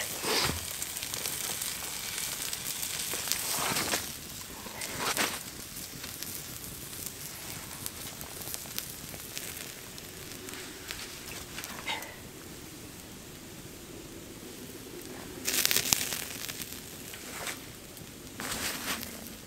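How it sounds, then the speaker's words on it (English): Bacon sizzling and catching fire over a backcountry campfire, a steady faint crackle and hiss with a few sharper pops and brief louder flare-ups. "Oh, my bacon's on fire."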